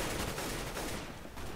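Rapid gunfire in the video game CS:GO, a dense burst of shots packed close together, loud and continuous for a moment before easing slightly, with no voices.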